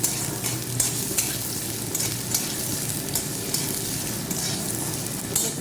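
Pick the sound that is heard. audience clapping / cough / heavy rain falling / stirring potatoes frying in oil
stirring potatoes frying in oil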